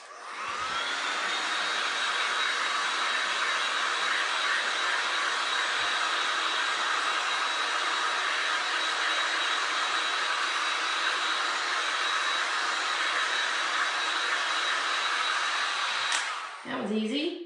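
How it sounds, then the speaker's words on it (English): A hair dryer blows steadily and loudly on glass and resin art, drying and defining painted leaves in a floral bouquet piece; the whir runs unbroken for most of the stretch, then cuts off abruptly near the end. "now I'm gonna hit this with my dryer because I want to go ahead and define some of these leaves"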